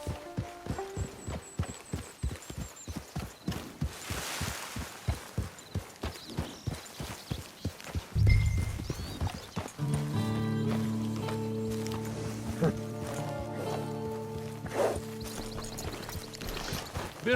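Horse hooves clip-clopping in Red Dead Online, a steady rhythmic trot that fills the first half, then gives way to a low droning hum and musical tones.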